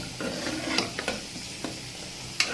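Food being stirred and fried in a pan for a morning meal, a soft low sizzle with scattered clinks and scrapes of a spatula.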